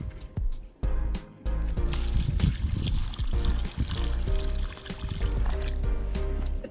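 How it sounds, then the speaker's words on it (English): Water poured from a container into a freshly set fence post hole, a steady gushing pour with splashing and gurgling that fills the hole, broken by brief pauses. "And then we'll add water. And each hole will take about 1 gallon of water."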